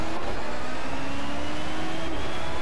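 An LMP1 prototype race car at Le Mans in the racing game Project Cars gives a steady, sustained engine drone with a faint tonal whine and no clear gear changes.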